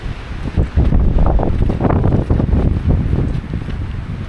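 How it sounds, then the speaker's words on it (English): Strong wind gusting across the microphone on the Caminito del Rey hiking trail just past a tunnel, opening onto green landscape: a loud, continuous buffeting roar with no voices. "Do you hear the wind?"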